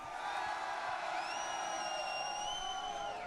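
A live crowd at a Halo Championship Series event in Salt Lake City holds a sustained roar of cheering, with rising whistles and whoops riding over the steady wash of voices.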